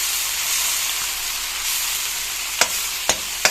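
Lamb pieces sautéing in a hot pan hiss with a steady, loud sizzle, broken near the end by a few sharp scraping clicks from stirring.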